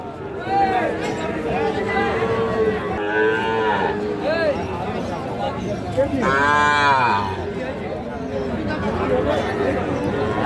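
Calves and young bulls moo repeatedly at a Friday livestock market in Ambari, Parbatipur, Dinajpur, with overlapping calls near and far over steady crowd chatter.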